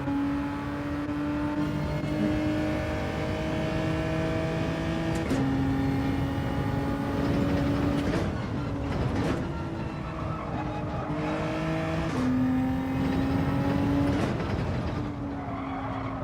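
Race car in Gran Turismo 7, a steady loud engine drone with repeated gear shifts and rising revs, tire squeal audible through the corners, no talking.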